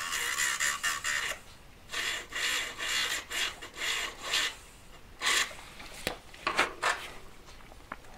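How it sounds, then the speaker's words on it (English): Short bursts of rasping grinding from a small abrasive disc being sharpened during jewellery-making for a three-stone ring, coming in repeated strokes of about a second each, close and fairly quiet, with brief pauses between. "Sharpen it a bit more."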